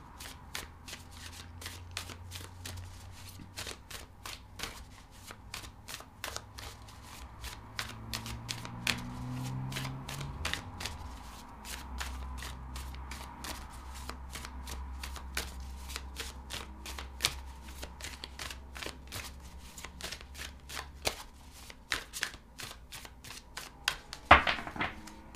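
Tarot cards are shuffled by hand for a reading, a long run of quick riffling snaps and soft slides that keep going steadily for about twenty-five seconds, close up and alone, with a louder flurry near the end.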